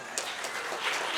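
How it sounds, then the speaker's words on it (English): Applause for the graduating class of 2019 at an Islamic center gathering, a steady wash of hand clapping from a crowd, moderately loud and continuous throughout. "a big hand applause for class of 2019"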